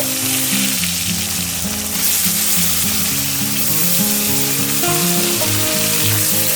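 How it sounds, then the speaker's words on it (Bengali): Salt and turmeric coated potatoes frying in oil for a village-style Bengali bata fish recipe: a loud, continuous close sizzle plays throughout, with background music running under it. "এবার এই তেলের মধ্যে আমি নুন হলুদ মাখানো আলুগুলো ভেজে নিচ্ছি।"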